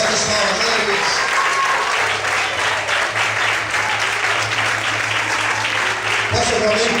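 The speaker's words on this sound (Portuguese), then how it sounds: "Mais fortes palmas, aleluia." A church congregation applauds strongly during a Portuguese sermon, a dense continuous clatter of many hands that holds steady for several seconds, with a sustained low tone and a voice rising over it near the end.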